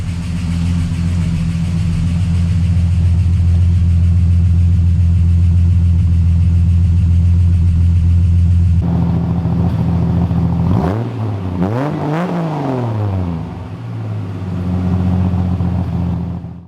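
Years-dormant Ford EB Fairmont engine idling steadily and loudly at close range with heavy top-end lifter clatter, then revved several times in rising and falling sweeps before settling back to idle.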